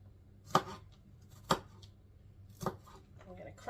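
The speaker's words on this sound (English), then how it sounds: "Just going to chop it a little." Several knife chops on a cutting board as garlic is cut into small pieces, evenly spaced and fairly close, in a quiet home kitchen.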